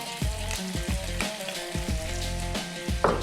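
Whole cumin seeds and thyme frying with small-chopped onion in a pan for mutton stew, giving a steady close sizzle broken by several sharp knocks and clatters of a utensil against the pan.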